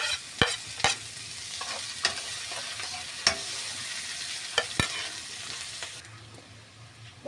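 Garlic and onion sautéing together in a pan, a soft steady sizzle with several sharp clacks of a utensil against the pan, easing off near the end.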